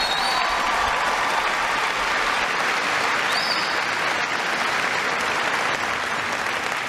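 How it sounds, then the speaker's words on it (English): A large audience at a speech to naval personnel at Rota gives loud, sustained applause, dense clapping near and far, with a few faint cheers and no clear talking. "Give him a big round of applause."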